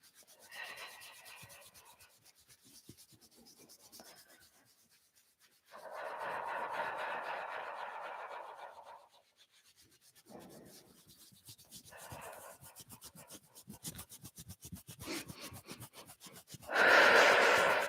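Hands rub the chest on either side of the sternum in repeated close, soft scratchy strokes, coming in several longer bursts with quieter gaps between them and ending on a louder rub, with no talking.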